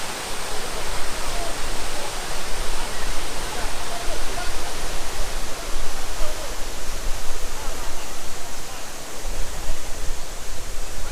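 Waterfalls at a Maui hotel swimming pool complex with water slides, rope bridges and tiki huts pour in a dense, continuous roar of splashing water, loud and unbroken throughout.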